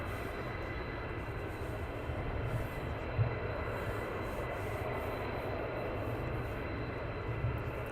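A fighter jet from the 492nd squadron taxis out at RAF Lakenheath, heard as a steady, moderately distant low jet rumble that holds evenly throughout with no talk.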